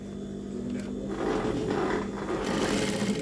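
A sewing machine runs steadily through fabric in a close, continuous whir, holding an even mechanical drone throughout with no talking over it.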